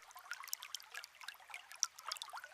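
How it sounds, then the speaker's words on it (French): Water trickles over stones in a small stream, soft irregular gurgles and splashes that stay faint and close with no talking. "Écoute l'eau qui ruisselle sur les pierres."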